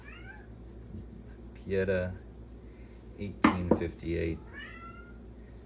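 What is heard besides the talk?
cat meowing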